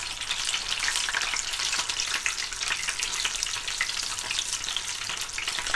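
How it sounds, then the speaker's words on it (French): A meat-filled pastel sizzles in hot oil with a steady, bright, crackling fry that stays close and even throughout, with no voices over it. "je vais le plonger dans l'huile"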